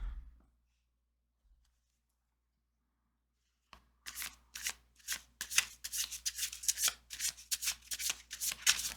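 Tarot cards shuffled by hand: after several seconds of near silence, a steady run of crisp riffling and slapping card sounds starts and keeps going, close and fairly quiet, without talking.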